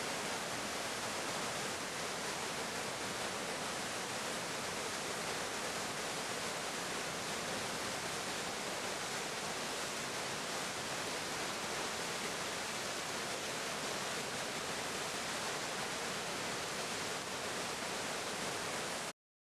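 Steady, continuous rush of flowing water, like a waterfall or fast stream in New Zealand, holding an even broadband roar throughout with no voices.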